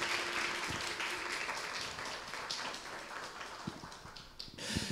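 Faint, distant audience clapping fills an outdoor orchestra concert, a soft steady patter welcoming guests onto the stage, with a few sharper claps and a louder swell at the end.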